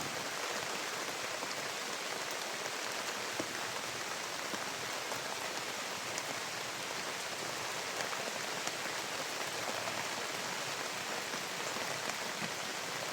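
Steady, heavy rain pours down continuously, a dense hiss of drops hitting surfaces with no voices or other sounds.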